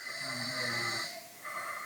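A person snoring at night, captured in a close recording: one long, loud rasping snore inhaled with a strong low rumble, a brief pause, then the start of another breath, no talking.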